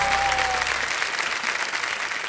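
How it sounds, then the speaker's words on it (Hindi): Studio audience applause on the KBC quiz show set, a dense burst of clapping from the crowd that holds steady and then eases slightly, with a brief tonal studio sound at the start. "इधर से ताली वाली बजती रहे"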